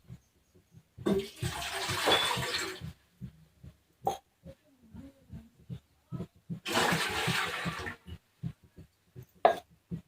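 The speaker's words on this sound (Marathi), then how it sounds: "याच्यामध्ये दोन ग्लास पाणी टाकायचं आहे" Two separate bursts of water pouring into a metal idli steamer pot, each lasting a couple of seconds, with soft clinks and handling noises between them.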